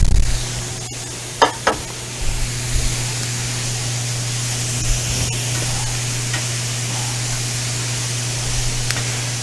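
Vegetables cook down in a pan with meat drippings for a pasta bake, a steady close sizzle over a low hum with a few stirring knocks.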